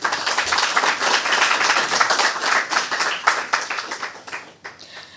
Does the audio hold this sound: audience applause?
yes